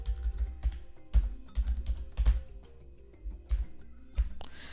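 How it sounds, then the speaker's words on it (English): Keys clatter on a computer keyboard while a list is entered into an Excel worksheet, a close, soft run of irregular taps and clicks with small pauses between words and no speech. "Let me type the list of assumptions."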